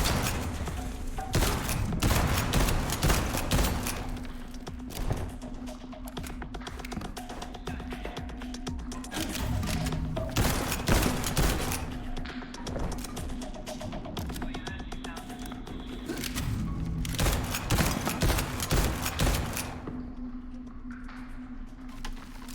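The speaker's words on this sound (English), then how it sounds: "Why is he firing so often when I'm telling him to fire?" Gunfire rattles in a video game, repeated loud volleys of shots in bursts with short breaks, with a person talking over the battle.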